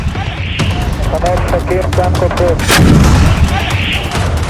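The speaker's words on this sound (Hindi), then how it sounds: "इजराइल का तोप से हमला" Israeli artillery fire in the Israel–Hamas war booms out in a rapid series of loud blasts, one especially powerful, over a continuous rumbling din; faint voices are mixed in.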